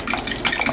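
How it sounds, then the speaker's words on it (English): Spoon clinking and scraping against a bowl while cake batter with vanilla is stirred for a tres leches cake, a brief run of quick, close, bright strokes. "I'm going to stir all of that up"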